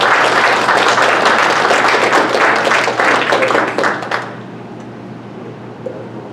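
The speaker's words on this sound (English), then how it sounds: "Let's give our speaker a round of applause for his efforts." Audience applause for the speaker at a Kitsap Patriots Tea Party meeting, a dense burst of clapping for about four seconds that then fades quickly into room quiet.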